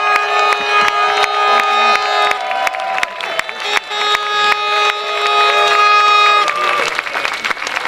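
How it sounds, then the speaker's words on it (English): A crowd at a conference tied to a Vienna protest cheers and claps. Sharp hand claps and shouts ring out alongside loud, sustained whistle-like tones, all close and lively throughout. "Please, a big applause for all of them."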